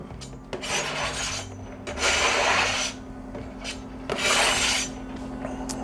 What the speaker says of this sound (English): scrape it right into our bowl